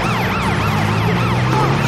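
A loud cartoon ambulance siren in a children's animation wails in fast repeating up-and-down sweeps, close and continuous.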